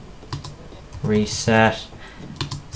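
Quick bursts of computer keyboard typing click in short clusters, with someone speaking in between and over the keystrokes.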